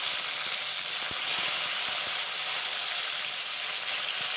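Tomato fries in a pan for a Bengali tangra fish and bean curry, giving a steady, even sizzle with no talking.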